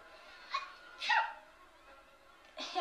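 Two quick, sharp human sneezes burst out close up from someone with a dog allergy, with a soft breath between them and a brief voiced sound at the end, in a cartoon dubbed in Swedish.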